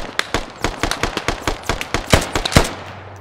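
Rapid bursts of gunfire crack out in a fast, uneven rhythm, a dozen or more sharp shots close by, with no talking, in the video game Squad on the Gorodok map.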